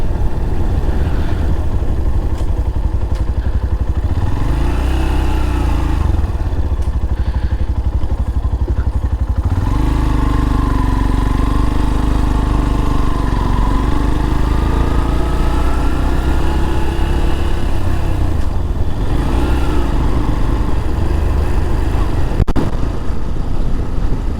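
Motorcycle engine droning steadily and loud throughout a road ride through Baharampur, with wind rush and occasional clatter; no talk over it.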